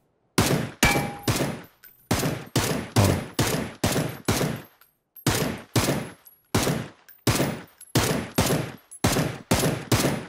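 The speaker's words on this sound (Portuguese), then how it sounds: "eu tenho que dar um tiro no boneco lá" Rapid bursts of gunfire in PUBG ring out in repeated volleys, loud and sharp, with brief pauses between the strings of shots.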